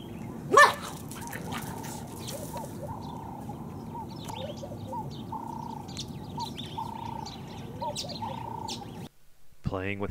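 A Jack Russell Terrier barks and yelps in a scuffle with a cheetah cub, one loud sharp bark near the start followed by fainter repeated yips and whines over steady background noise, while a person talks.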